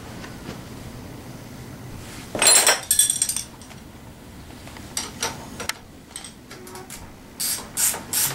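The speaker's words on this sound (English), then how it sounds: "Go ahead and tighten it down." Brief metallic clinks and ratcheting taps from a wrench tightening a nut on a bolt while assembling a Tao Tao 90 dirt bike, in a few short bursts with quiet pauses between.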